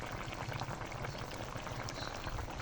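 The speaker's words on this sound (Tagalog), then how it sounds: "Ayan, kulong-kulo na siya." Coconut milk (gata) boils in a pot for ginataang upo at malunggay, a steady low bubbling and gurgling that runs the whole way through at moderate level, with no voices over it.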